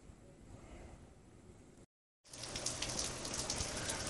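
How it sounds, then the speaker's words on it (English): Steady rain patters on surfaces, first softer, then after a brief silent gap it returns louder and denser, a close continuous hiss of drops. "Well, the rain finally got here"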